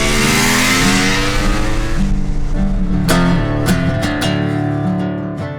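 A seventies superbike engine, loud and close, holds a harsh sustained roar, then blips through several sharp revs that rise and fall before settling.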